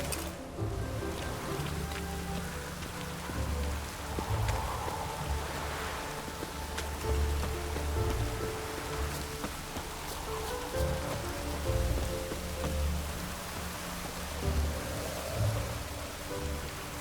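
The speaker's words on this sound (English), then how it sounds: "Looks like rain." Steady rain falls throughout in The Witcher 3, a dense hiss of drops on surfaces with occasional soft low rumbles, continuous and moderately loud with no voices.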